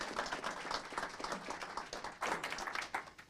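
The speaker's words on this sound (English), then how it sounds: "can we give them a round of applause?" A city council meeting audience applauds honorees during a child abuse prevention proclamation, a moderate crowd clapping in a dense, uneven patter that swells slightly near the end, heard from a distance and fairly faint.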